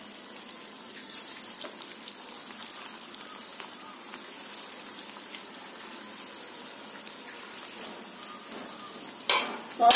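Jackfruit koftas deep-frying in hot oil give a steady, dense crackling sizzle that runs evenly throughout, with a brief louder rustle right at the end.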